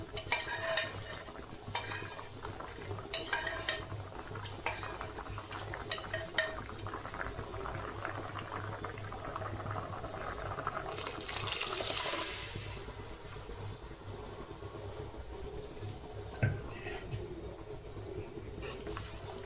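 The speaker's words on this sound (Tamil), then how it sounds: "இப்போ புளி தண்ணி கொதிச்சிருச்சு நம்ம பருப்பை அதில் ஊற்றிக்கலாம்" Cooked lentils being poured into boiling tamarind water for sambar, with steady bubbling and liquid stirring sounds at a moderate level, no voices.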